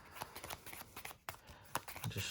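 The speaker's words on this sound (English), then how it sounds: "Just shuffle up." Yu-Gi-Oh! card deck being shuffled by hand, close rapid riffling and slapping of cards in short bursts with brief pauses between.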